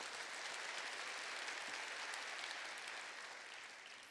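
Church congregation at a worship service claps together, a soft, distant, continuous patter of many hands that gradually fades toward the end.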